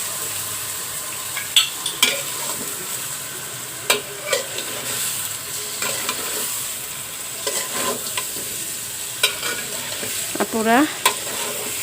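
Hilsa fish pieces slide into hot oil with potatoes and fry with a steady bright sizzle, broken by scraping stirs and clinks of a utensil, while a voice briefly speaks near the start.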